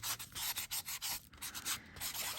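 Sanding block rubbed over metal tape art laid on raised wooden chippies, a close, steady run of short abrasive strokes with brief pauses between passes.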